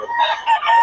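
Boston Sweater bloodline gamecock rooster crowing at a Bocaue market, a short, loud, close crow with a slightly broken, rasping tone.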